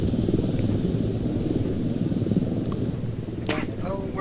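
Helicopter in a multiplayer combat video game, a steady low rotor and engine drone holding loudly throughout, with brief voices and chatter cutting in near the end.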